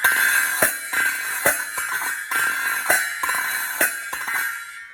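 Bright Coptic finger cymbals clash in a steady rhythmic pattern, each phrase closed by a quick flicking strike, with a shimmering ring that fades at the end.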